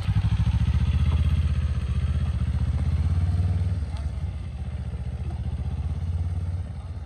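A motorcycle engine revs steadily as a learner rider slowly rolls on the throttle, loud and close with a throbbing low rumble that dips briefly partway through.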